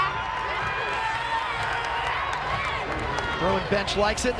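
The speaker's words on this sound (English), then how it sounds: "There's an 8 clap breaking out inside the Huntsman Center." A partisan pocket of fans in a gymnastics arena claps out a rhythmic eight-count chant amid a busy crowd during a women's college gymnastics meet, with an announcer talking over the steady crowd noise.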